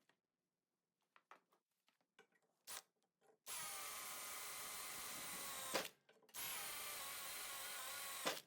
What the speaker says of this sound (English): The outer holes, which are really only there to allow tooling to get in, were then widened with a step drill